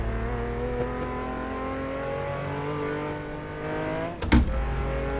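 A V8 sports car engine producing over 600 horsepower, in the Assetto Corsa racing game, drones steadily at high revs and holds its note, then gives a sharp burst of revving near the end.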